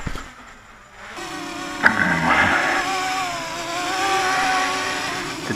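A Realacc GX210 quadcopter with 2300 kV motors flies outdoors in cold weather. Its loud, steady motor whine climbs in pitch and holds as the craft speeds up, with no speech.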